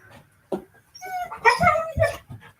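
Dog whimpering and whining in several short, close bursts, with soft yips between brief quiet gaps.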